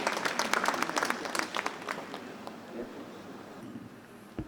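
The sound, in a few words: audience applause for lecturer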